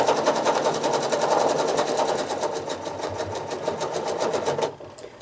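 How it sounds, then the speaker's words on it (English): Sewing machine stitching a circle during free-motion quilting, a close, steady rapid needle chatter with a running motor hum that holds for about five seconds and then stops abruptly. "so we're going to stitch a circle first."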